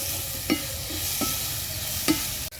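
Curry leaves and coriander leaves sautéing in a pan for a drumstick fry, giving a steady soft sizzle with a few sharp stirring scrapes, close and moderately loud, with no talking.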